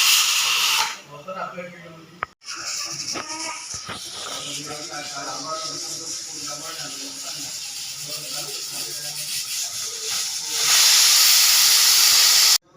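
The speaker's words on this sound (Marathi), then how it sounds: "पहिली शिटी झालेली आहे बघू शकता दुसरी शिटी" Pressure cooker whistling on a stove while Namdev rice cooks, a loud steady steam hiss near the start and a stronger burst of whistle at the end, with kitchen noise and chopping in between.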